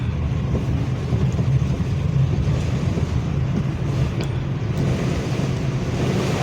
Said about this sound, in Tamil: ஆனால் காற்று அடிச்சுன்னு தான் இருக்குது.